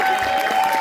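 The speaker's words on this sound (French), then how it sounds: "on applaudit l'accessoiriste" Audience at a cosplay contest and awards ceremony clapping for the prop master, a brief, steady patter of applause with a thin sustained tone running through it.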